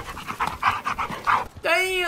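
Panting dog in the video game Dead of the Night, a run of breathy pulses under ongoing talk, followed by a short whimpering tonal cry at the end.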